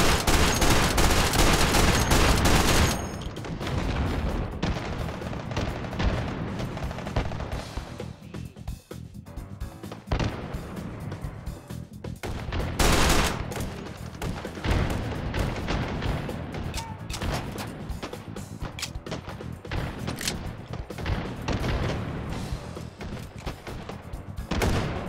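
Sustained gunfire from hostile NPC soldiers in the VR shooter Hot Dogs, Horseshoes & Hand Grenades: a loud opening burst, then dense, continuous rattling volleys and bangs that keep up steadily for the full stretch, with no talking.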